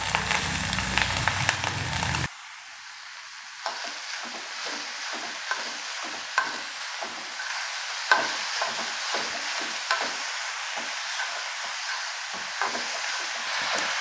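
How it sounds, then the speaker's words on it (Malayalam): Sliced bitter gourd goes into hot oil with mustard seeds and cut dried red chillies, starting with a sharp burst of sizzle and then settling into quieter crackling under repeated scraping stirs. "ഇനി ഇതിലേക്ക് നമുക്ക് പാവയ്ക്ക ചേർത്ത് കൊടുക്കാം"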